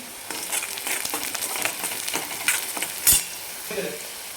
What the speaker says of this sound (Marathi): लाल तिखट टाकते आणि छान मिक्स करून घ्यायचं